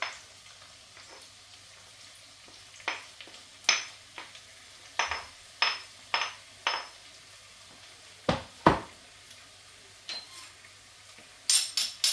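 Garlic and ginger stirred into onion and chilli in a pan for Pakistani beef karahi, heard as scattered scraping clinks of a utensil against metal with soft frying underneath, close and fairly quiet, no talk.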